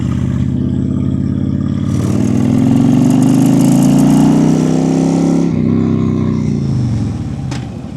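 A Honda Sabre 1300 factory chopper motorcycle engine running loud and close, a steady idle that swells into a throatier rev midway and then settles back down, with no talk.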